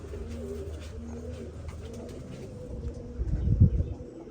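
Soft, low pigeon cooing repeats in short phrases against a quiet background, with a louder rustle or flutter near the end.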